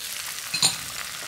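Spinach sautéing with garlic in a heavy cast iron pan, a steady close sizzle with a brief louder hiss and stir midway, no talk over it.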